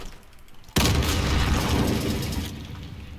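A single loud SKS rifle shot in the video game Modern Warfare, a sharp close boom that rings out and decays over a few seconds, with no other shots following.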